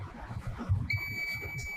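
Multimeter set to continuity beep mode while checking an IC line for shorts during mobile phone repair, giving one steady high electronic tone that starts partway through and holds over faint background noise.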